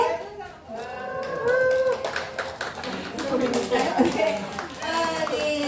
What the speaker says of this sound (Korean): 우리 어머님들 친구들 박수 쳐줄게요